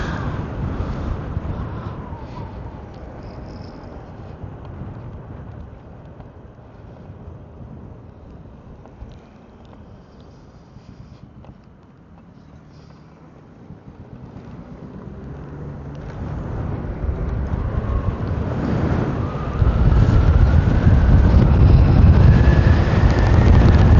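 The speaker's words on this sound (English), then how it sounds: "I'm riding against a nice headwind, and it's kind of hitting me every now and again." A headwind buffets the rider of an Onyx electric bike, a 80 volt Onyx Long Range or RCR Limited Edition, as a roaring rumble that eases midway and then builds into heavy, close gusts. No one talks.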